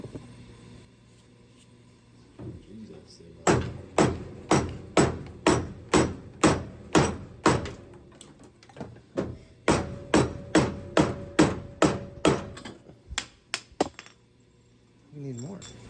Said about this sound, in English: Gotta pound that.